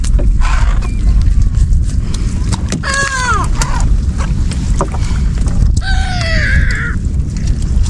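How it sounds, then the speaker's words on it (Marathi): A large fishing boat out on the water, with steady loud wind and water rush throughout and a few sharp bird-like calls rising above it near the middle and end. "मोठ्या साईजची बोट आहे"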